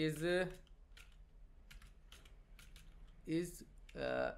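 Computer keyboard typing while writing code for a Flutter app theme, a light run of soft key clicks through the middle, framed by someone speaking at the start and end.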